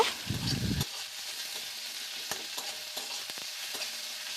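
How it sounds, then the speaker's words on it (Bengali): Ginger and garlic paste with green chillies fries in a pan for a Bengali fish curry. A brief low scrape of stirring comes at the start, then a steady close sizzle continues with occasional clicks of the utensil. No one speaks. "এবার আদা রসুনটাও ভালো করে ফ্রাই করে নেব।"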